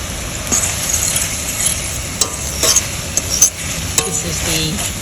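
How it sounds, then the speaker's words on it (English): Steady sizzling of rice frying in a pan, with occasional clinks and scrapes of a utensil stirring, no voices. "This is the frying of the rice section."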